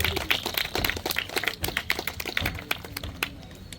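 Audience clapping at a Kannada Rajyotsava celebration held by the Jai Karnataka Parishat in Guttalu, Mandya, a dense patter of many hands that is fairly close and gradually thins toward the end.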